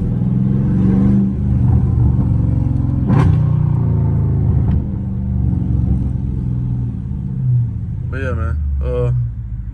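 A Dodge Charger Scat Pack cruises a sunny street, its engine a steady, loud low rumble that swells slightly with throttle, with someone talking over it and a couple of brief squeaky chirps near the end.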